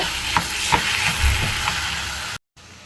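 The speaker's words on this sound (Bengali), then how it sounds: "আবার একটু ভালো করে নেড়ে চেড়ে মিশিয়ে নিব" Olive pickle with spices and black salt is stirred in a pan, a steady soft sizzle with a few faint scraping knocks, fairly close and without talk, before a short gap of silence.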